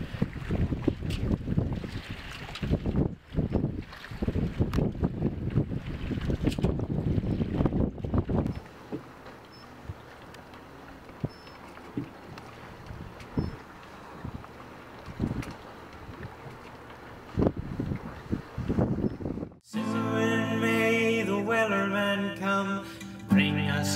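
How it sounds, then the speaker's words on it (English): Strong wind gusts buffet an Oday Mariner sailboat riding at anchor on choppy Kentucky Lake water, a steady rushing roar with slaps and knocks, ending abruptly in a switch to music. "the breeze is picking up and turning into a gale, and it's really starting to get choppy"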